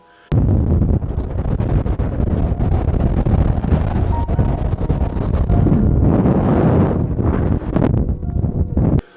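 Strong wind on the Bristol Channel coast buffets the microphone with a loud, continuous roar that surges in gusts, rumbling heavily and drowning out everything else.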